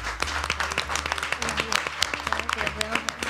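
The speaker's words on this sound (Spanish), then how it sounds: "un aplauso, por favor." Applause for a team at a school quiz marathon in Astillero, with scattered claps and cheering while voices talk over them throughout.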